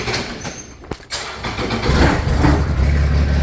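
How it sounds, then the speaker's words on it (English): Kubota zero-turn mower engine cranking and catching, a brief stutter followed by the engine firing up and settling into a loud, rough idle close by. "I had to hit the choke again to get it to start"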